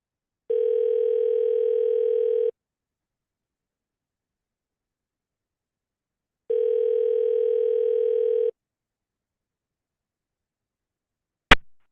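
A steady telephone dial tone sounds twice while a new call is being placed, each burst about two seconds long and separated by several seconds of silence, followed by a brief sharp click at the end.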